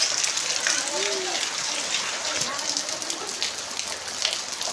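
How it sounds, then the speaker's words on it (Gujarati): Heavy monsoon rain pours down on a village in a dense, continuous hiss of drops striking surfaces nearby, loud and unbroken from start to finish. "કેવો વરસાદ આવે"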